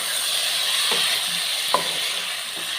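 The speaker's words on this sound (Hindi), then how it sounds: "अब मैं इसमें टमाटर डाल दूँगा" Mixed vegetables sizzle steadily in a hot pan after tomatoes are added, a close, even frying hiss with a few soft clicks and scrapes of a spoon stirring through.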